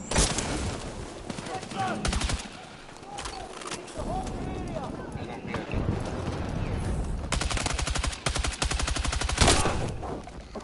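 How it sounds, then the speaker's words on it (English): Rapid bursts of automatic gunfire and scattered shots ring out in a Battlefield 6 Conquest match on PS5, loud and dense throughout, with a voice talking over the firefight. "Getting in a gunfight with a PC player sometimes."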